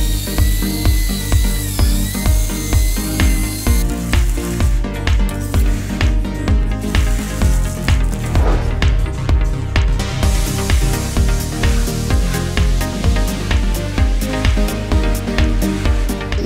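Polishing and sanding in a paint workshop where metal coating is being applied, heard as a loud, continuous power-tool whine and grind with a rapid pulsing rhythm throughout.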